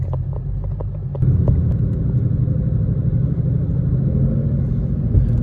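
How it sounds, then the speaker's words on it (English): Ford Shelby GT500, rated at 760 horsepower, with its engine rumbling while driving. A deep steady drone swells as the car pulls away and then holds loud and close inside the cabin. "We're still going down Gemstone in the GT 500."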